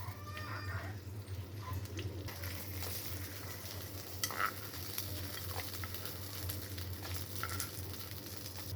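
Dried red chillies frying in hot oil for tamarind rice, a soft steady sizzle with light crackle and occasional stirring clinks of a utensil, quiet and close, no voices.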